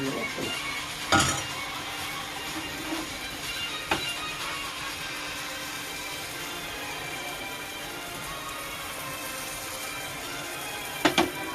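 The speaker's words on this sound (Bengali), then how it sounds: "এরকম এরকমভাবে সব পিঠেগুলি ভেজে নেবো" Patishapta pitha, thin rolled Bengali crepes, sizzle steadily in a pan, with a soft continuous frying hiss broken by a few brief clatters of a utensil against the pan near the start and end, with no talk.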